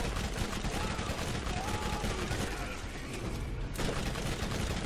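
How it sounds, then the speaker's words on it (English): Sustained gunfire in the video game Borderlands, a dense continuous stream of rapid shots at moderate loudness, cut by one abrupt break near the end, with faint voice traces underneath. "Where did I just get shot from?"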